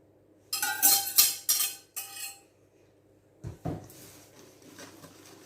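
Clinks and scrapes of a utensil against a bowl as two muffin batter preparations are combined, a few sharp close taps, then softer scraping, without talk.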